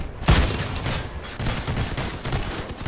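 Vehicle-mounted weapons firing in the Crossout video game: a continuous rapid burst of gunfire with one heavier opening blast, dense and loud throughout, with no talking.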